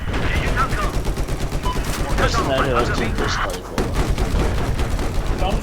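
Gunfire in the video game Counter-Strike, rapid bursts of shots cracking steadily through the whole stretch, loud and close, with a voice talking over it.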